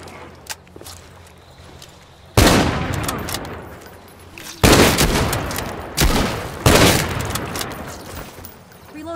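Gunfire in No More Room in Hell 2, three loud separate bursts of shots with echoing tails spaced a couple of seconds apart, after quieter handling sounds.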